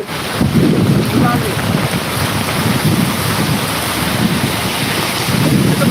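Heavy monsoon rain pouring outdoors, a loud, dense, steady roar with gusty rumbling buffets against the microphone throughout.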